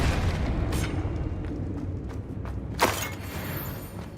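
A Confringo blasting spell goes off in the video game Hogwarts Legacy: several booming bursts and crackling impacts over a low rumble, with one sharp loud blast standing out near the end.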